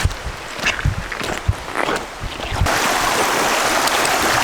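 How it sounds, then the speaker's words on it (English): Splashing steps through a small shallow river on the way to a sea cave, irregular close sloshes of water, then a steady broad rush of flowing water and surf. "we're gonna have to go across this little river to go to the cave"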